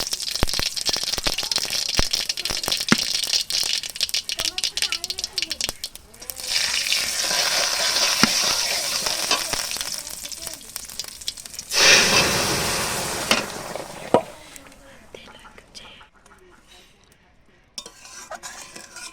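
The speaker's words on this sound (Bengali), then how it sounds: "টক ডালে আমি দেব সর্ষে, শুকনো লঙ্কা আর তেজপাতা, কাঁচা তেজপাতা ফোড়ন। এগুলো আমি ফোড়ন দিয়ে দিচ্ছি।" Mustard seeds, dried chilli and fresh bay leaves sizzling in hot oil for a sour dal, loud crackling and spitting with rattling pot and utensil stirring, surging again midway before dying down to quiet, no talk.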